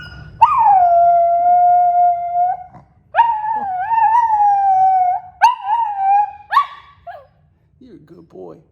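A pet dog howls in long, drawn-out wavering tones, then breaks into shorter whimpering yelps, loud and close, with a brief pause between howls.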